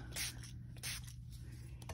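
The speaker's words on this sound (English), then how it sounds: "I'm just going to spray across the top. Nice little spray on this." A spray bottle mists ink across the top of a card in two quick, faint hissing bursts close by, with quiet room noise around them.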